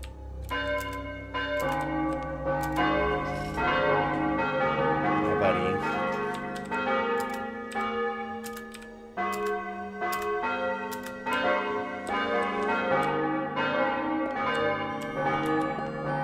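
Church bells in Might and Magic 9, a steady series of resonant bell strikes with long ringing tones layered over each other, loud and rhythmic throughout.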